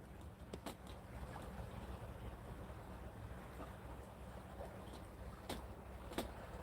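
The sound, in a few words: speedboat on water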